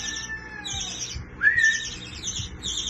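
Pet parakeet during training, bright repeated chirps and tweets close by, with a sharper rising call midway and brief soft thuds in the background.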